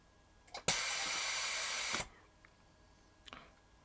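Loud, steady compressed-air hiss from a sandblasting setup blasts for over a second, then cuts off abruptly, with brief softer air bursts before and after.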